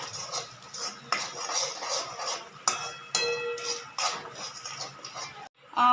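Spices with turmeric and salt are sautéed in a pan for a winter melon curry, with irregular clinks and scrapes of a utensil against the pan over a soft sizzle.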